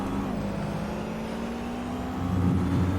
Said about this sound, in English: We get the sound of the engine.